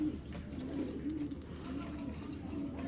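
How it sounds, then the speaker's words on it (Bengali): Pigeons of a stone-eyed racing breed coo steadily, a low repeated burbling close by that carries on without pause and without voices. "দুইটাই কিন্তু পাথর চোখের কবুতর"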